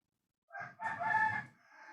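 A rooster crows near a house, one drawn-out cock-a-doodle-doo that starts with a short note, swells to a loud, strained middle and trails off, fairly close with no talking.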